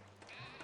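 One short, faint sheep bleat from the city-building game Caesar 3 rises out of steady background game ambience.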